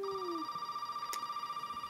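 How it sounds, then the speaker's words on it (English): A telephone rings in Resident Evil 7 Biohazard, a steady electronic ring tone sustained across the moment, clear and upfront over a quiet game backdrop with no talk. "The phone again."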